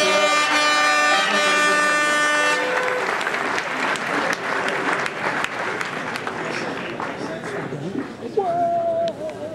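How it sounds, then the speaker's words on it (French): Audience applause at a UFOLEP regional sports ceremony in Midi-Pyrénées, as a jersey is presented. Steady, dense clapping follows a brief tonal passage and fills the room before thinning out toward the end. "Vous l'applaudir."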